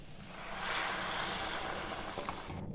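Hot water poured into a pot of Kerala-style vegetable biryani, a steady close rushing splash lasting a couple of seconds before tapering off.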